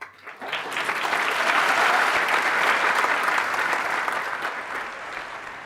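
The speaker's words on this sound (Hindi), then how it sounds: "आपने तालियां बजाई" A large audience bursts into sustained applause, a dense wash of many hands clapping that swells quickly, holds steady and loud for several seconds, then begins to taper off, with no speech over it.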